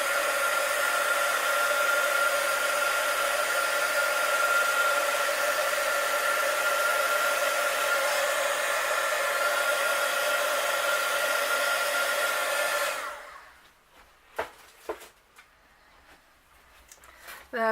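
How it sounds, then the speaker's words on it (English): A heat embossing tool blows hot air as a steady, loud, broadband whoosh for about thirteen seconds, then cuts off abruptly, leaving brief clicks and handling noises. "I'm just going to go and put my heat tool on it"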